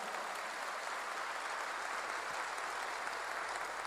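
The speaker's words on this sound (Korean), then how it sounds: "믿는 사람만 박수세요." A congregation at a Christian church service claps in a continuous, even wash of applause, moderately distant and unbroken throughout.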